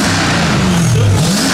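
A straight-piped Dodge Hellcat with an Armytrix exhaust revs loudly and close, its deep engine note rising and falling through a quick throttle blip, with no talking over it.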